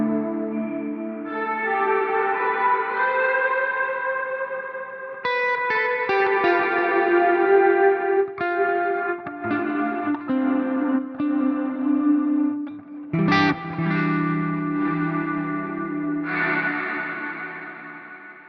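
An electric guitar played through a Neural DSP Nano Cortex rings out in sustained chords and notes washed in ambient reverb and delay, with long shimmering tails and repeats blending between phrases, with no talking over it.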